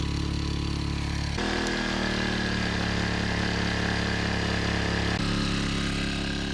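A portable gasoline generator rated at 700 watts, mounted on an e-bike and running in 200 watt mode, gives a steady, close droning hum that shifts its pitch slightly twice.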